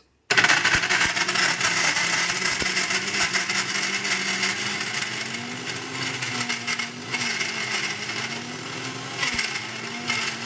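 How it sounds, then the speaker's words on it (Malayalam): An electric mixer grinder whirs loudly and steadily as it blends ingredients, a continuous motor drone with a slowly wavering pitch and gritty churning throughout, starting abruptly and running alone without talk. "മിക്സിയിൽ വെച്ചിട്ട്"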